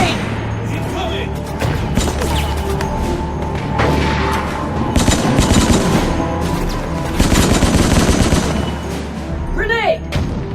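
Dense, continuous gunfire and explosive blasts from a fire grenade battle in Resident Evil 3, loud and sustained throughout, with shouted voices over the chaotic combat noise.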